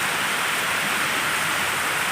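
Heavy afternoon rain pours down in a dense, unbroken roar, loud and close, a steady wash of falling water with no pauses and no voices.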